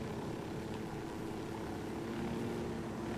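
A helicopter flies in the video game Ghost Recon Wildlands, giving a constant, heavy rotor and engine roar that stays even and close throughout, with no voices.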